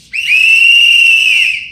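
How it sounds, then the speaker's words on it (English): Protest whistles blown together in one sustained shrill blast, loud and steady for over a second with no talk. "We will blow our whistles."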